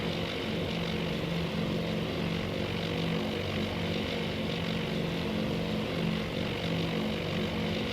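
Steady droning roar of WWII propeller aircraft engines in the Task Force Admiral naval combat game, a dense continuous hum holding at constant loudness without talk.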